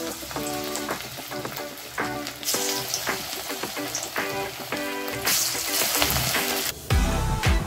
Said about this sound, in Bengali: এখন আমি পকোড়াগুলো ভাজবো।